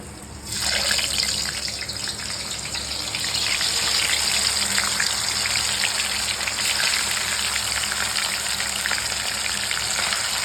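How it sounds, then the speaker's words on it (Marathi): Fish frying in hot oil, a steady loud sizzle with a hissing spitting wash that starts abruptly and continues without pause. "साईडलाच मी आता ती वाव फिश आहे ती तळून घेणार आहे"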